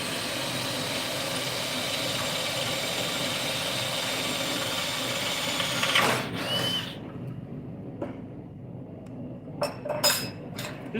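A drill bit bores a hole through 1/8 inch metal with a steady, loud whirring grind for about six seconds, then stops, leaving a few scattered metallic clinks and taps.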